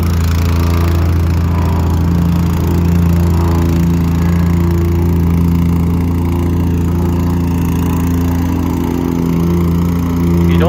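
A plate compactor packs sand for brick pavers on a driveway extension, its engine droning loud and steady throughout with a constant low, rumbling hum and no pauses.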